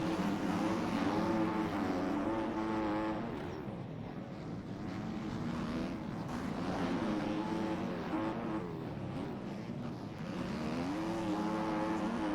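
KTM 250 SX motocross bike engine revving continuously in the MX Bikes racing game, a steady buzzing two-stroke drone rising and falling in pitch with gear shifts, loud and alone throughout.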